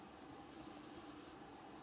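Handwriting a mixed number during a grade 5 math lesson, a soft scratchy pen or marker stroke lasting under a second, faint and close with no talk.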